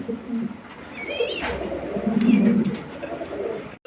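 A pair of Mundian pigeons coos with low, rolling calls that swell and fade throughout, fairly close, over a busy background with a few higher bird chirps; no one talks.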